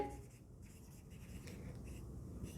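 Marker or chalk scratching across a board as a chemistry teacher writes notes during a lesson, a soft continuous scraping that runs steadily close to the microphone, with no talking.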